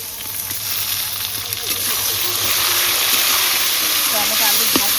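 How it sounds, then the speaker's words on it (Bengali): Tomatoes tipped into hot oil for a Bengali rohu fish curry, giving a steady broadband hiss and sizzle that swells slightly toward the end, with faint voice traces underneath. "এবার টমেটোগুলো দিয়ে দেবো।"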